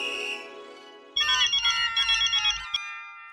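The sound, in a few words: telephone ringing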